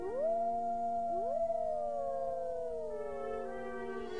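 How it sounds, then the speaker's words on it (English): Several wolves howl together in long, rising and sliding tones that overlap and sustain, with a steady low hum underneath, set on a pioneer trail along the North Platte. "and occasionally wolves howled."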